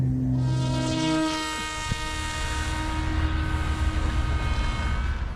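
A large, heavy Volantex Ranger 2000 RC model plane flies outdoors, its steady motor drone carrying a sustained harmonic whine that holds continuously at moderate loudness, with wind rumble underneath.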